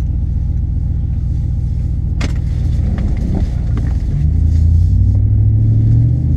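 A truck engine idles with a low steady rumble, then a sharp clack and rattles as it starts to pull out, the engine note rising and droning louder near the end.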